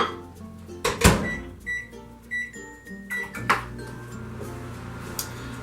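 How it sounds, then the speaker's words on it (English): A microwave oven is being used to cook pizza in a mug: a low running hum under scattered short beeps, clicks and a clink of a mug or dish, all fairly close. "now I'm going to put it in the microwave for 1 minute and 20 seconds."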